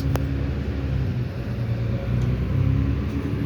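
Onboard a Routemaster bus, RML 887, riding through London in the late evening: a steady low engine rumble and drone with a faint hum, continuous throughout, no talk.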